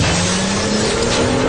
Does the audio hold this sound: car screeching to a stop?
yes